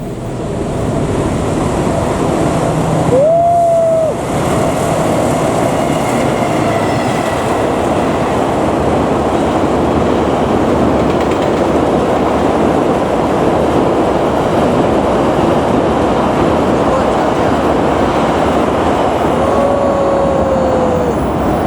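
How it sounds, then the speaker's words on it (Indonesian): The Purwojaya passenger train rumbles steadily past at close range for the whole stretch, a loud continuous roar with a couple of brief horn-like tones. "Ternyata itu kereta Purwojaya teman-teman ya."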